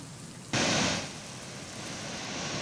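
Heavy downpour in Nandurbar: a steady hiss of falling rain that swells suddenly into a louder rush for about half a second, then settles back to a constant, close wash of noise with no voice.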